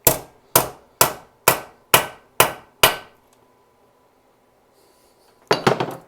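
A carburetor part for a carb install is hammered flat on a hard surface: seven loud, evenly spaced ringing metal blows, a quiet pause, then a quick cluster of several more strikes.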